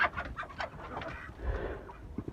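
Backyard chickens after a snowstorm, a few close, quiet clucks and short squawks in an uneven rhythm, with a soft rustle partway through.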